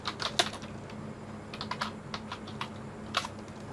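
Computer keyboard typing CSS code in Visual Studio Code, quiet irregular key clicks in small clusters with brief pauses, close and alone without talk.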